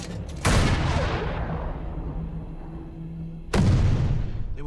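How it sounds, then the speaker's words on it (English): Mortar rounds exploding in a war movie battle scene: two loud, sharp booms several seconds apart, each followed by a long rumbling decay, with no talk. "They were walking mortars in and at night."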